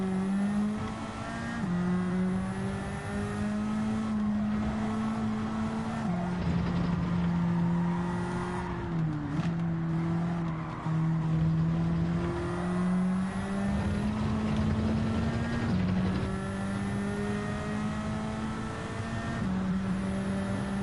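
Race cars in a Gran Turismo 7 Nations Cup online race roar continuously. The engine note climbs and drops back through repeated gear shifts, with other cars running close alongside.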